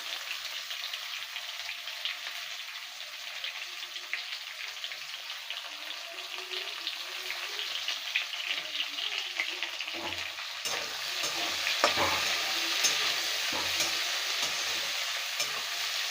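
Chopped onion and potato frying in a pan, a continuous soft sizzle that swells louder in the second half, with faint stirring noises and no speech.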